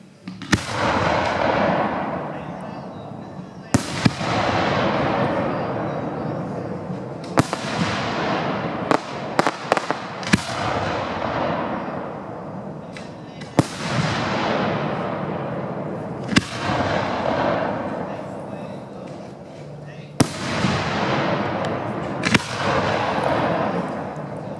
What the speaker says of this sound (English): Nice big breaking shells that you can expect from Dominator 5-inch assortments